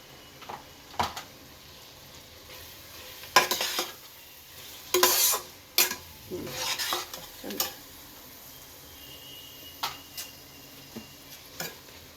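A puree of tomato, garlic and dried chilli is added to mutton in a pan, where it gives a quiet, low sizzle broken by scattered stirring scrapes and the clink of a spoon against the pan.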